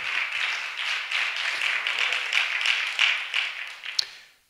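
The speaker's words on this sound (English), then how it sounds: "let's give God another hand clap for Lisa" A church congregation claps hands together in a sustained, dense round of applause, fairly close and loud, tapering off at the end with a final sharp clap.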